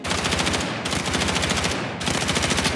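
Standard-issue weapon firing in Battlefield 6, sustained automatic bursts of rapid rounds, loud and close, with two short gaps between bursts.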